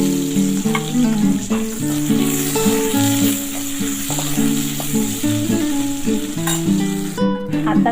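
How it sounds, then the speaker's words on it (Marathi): Chopped onion frying in hot oil with bloomed cumin seeds until brown, for a dry guar bean and peanut vegetable dish in a home kitchen; a steady, close sizzle runs throughout with occasional stirring and background music. "कांदा छान आपल्याला ब्राऊन होईपर्यंत भाजून घ्यायचा आहे"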